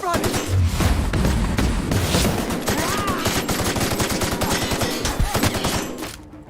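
Rapid gunfire from a weapon in The Outer Worlds video game, a dense, loud burst of repeated shots lasting several seconds before cutting off, with faint voice activity mixed in.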